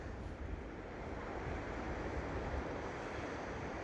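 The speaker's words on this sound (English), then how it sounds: "Hear the waves crashing." Ocean surf breaking on a shore at a scenic outdoor spot, a faint, steady roar of waves mixed with wind rumble, continuous and distant-sounding with no talk.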